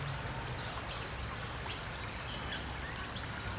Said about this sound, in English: and the creek's flowing. Look at that.